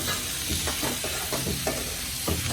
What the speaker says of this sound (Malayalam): ഈ തക്കാളി രണ്ടെണ്ണം അരിഞ്ഞു വെച്ചതും കൂടെ ഇട്ട് കൊടുക്കാം നന്നായിട്ട് വഴറ്റിയെടുക്കണം